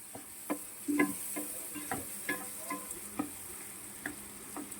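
Tomatoes fry in a generous amount of oil for khichdi, a quiet sizzle under light, evenly spaced taps and scrapes of a ladle, close by and fairly soft, with no talking.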